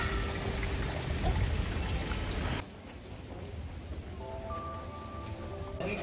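Rain falls outside a restaurant in Mahabaleshwar, a steady hiss of pouring water that drops quieter halfway through as other faint background sounds emerge.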